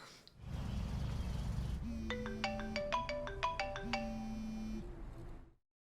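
A phone ringtone rings unanswered in a scene from the horror series The Haunting of Hill House, a melodic chiming pattern repeating twice over a low hum before cutting off abruptly.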